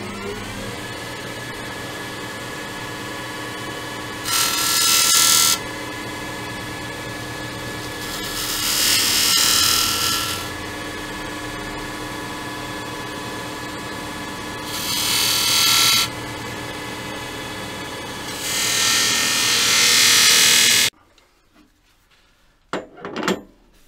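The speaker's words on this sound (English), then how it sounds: "So a little spindle gouge." A small spindle gouge marking texture on a beech bowl mounted in a carver jig, with several bursts of cutting and scraping rising over a steady motor hum, the bursts evenly spaced, then abruptly quieter at the end.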